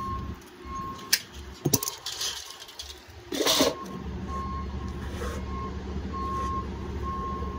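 Forklift reversing beeps on a construction site where curved lead capping is being installed, a steady repeating tone running through the clip amid clattering work noise and brief louder knocks.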